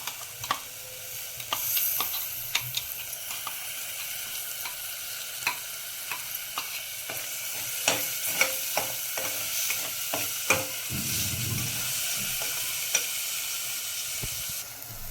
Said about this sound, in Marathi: हिवळ मी आता हे तीळ आणि खोबरं ते दोन मिनटं परतून घेते व्यवस्थित